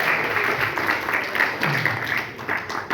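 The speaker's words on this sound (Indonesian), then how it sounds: "Tepuk tangan untuk kita semuanya ya" Audience applause fills a school hall during an election outreach session for high school girls in Surabaya, a steady, dense wash of clapping held for several seconds at even loudness.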